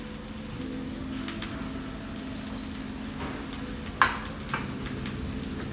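Onions hit a hot pan and fry with a steady, close hiss and crackle, broken by a brief clatter of stirring near the end, with no talking.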